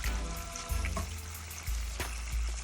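Grunt fish deep frying in hot grease, a steady close sizzle and bubbling with a few soft knocks and scrapes from the pan.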